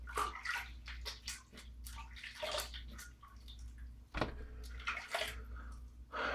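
Water runs and splashes softly during a rinse after a wet shave with soap and a Gem single-edge razor, with intermittent sloshing and dripping heard close but quietly.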